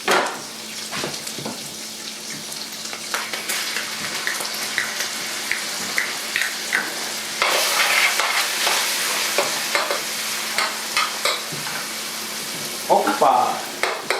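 Celery, onions and green peppers for chili frying in a pan, a continuous crackling sizzle with scattered clicks and clatters of utensils, running steadily close by throughout.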